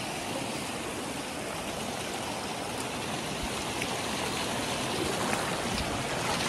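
A waterfall at Samot roars in a steady, dense rush of flowing water, close and loud throughout with no break or talking over it.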